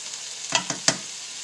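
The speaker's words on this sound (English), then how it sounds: "we're going to add 1 can of diced tomatoes with the juice" A can of diced tomatoes with juice tipped onto frying hamburger for baked spaghetti sauce, giving a few quick wet splashes and sizzle bursts over a faint steady hiss.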